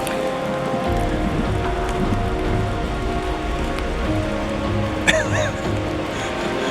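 Rain falls steadily in a redwood forest in the Pacific Northwest, with a continuous patter of drops on foliage and ground, fairly close, and a single sharper knock partway through.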